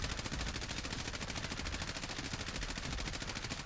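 M4A1 rifle in Call of Duty Warzone fires a sustained full-auto burst, a dense rapid string of loud close shots running unbroken for several seconds with no talking over it.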